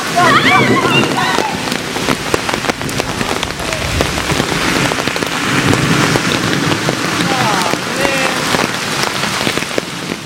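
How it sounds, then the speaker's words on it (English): Heavy rain pours down outdoors at night, a loud continuous dense hiss and patter of drops on surfaces, with people's voices and shouts over it. "It's pouring down rain."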